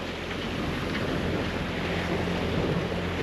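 Steady, loud wind roaring across the microphone outdoors on a sailboat crossing the Strait of Gibraltar, continuous broadband rushing with no voices.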